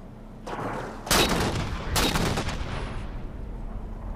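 Weapon fire in the Halo 4 video game comes as a few loud, booming bursts that blast through a low ambient bed, each shot followed by a short echoing tail.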